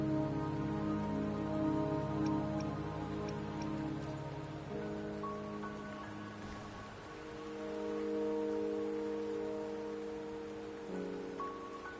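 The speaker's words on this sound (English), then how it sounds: "Don't worry, the rain won't last much longer." Steady rain falls in the video game Wuthering Waves, a constant soft hiss of drops beneath sustained ambient music tones.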